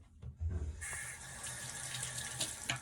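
A bathroom tap runs steadily, splashing into a sink as a face cloth is wetted, alone and fairly close.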